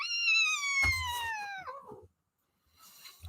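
A cat lets out one long, loud meow that slides downward in pitch and fades, then a short silence and faint indoor noise follow.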